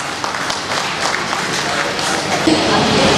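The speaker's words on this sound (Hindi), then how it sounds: "एक बार जोरदार तालियां बजाइए।" An audience at an award ceremony for an Indian award council gives a round of applause, the clapping steady and moderate and mixed with crowd murmur and voices.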